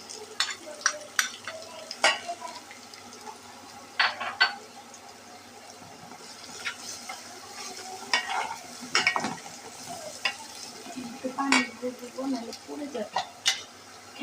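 Chopped onion fries in a pan with turmeric, chili powder and salt while cooking mustard hilsa curry, a steady sizzle broken by repeated scraping and clattering stirring strokes.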